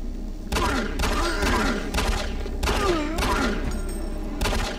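Gunshots in Doom 3 BFG come as several loud, sharp reports in irregular bursts, separated by short gaps of lower in-game ambience.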